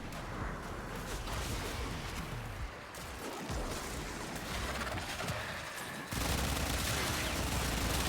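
Sustained heavy gunfire from guns in the Warframe game, dense and continuous, loud and close, swelling louder toward the end.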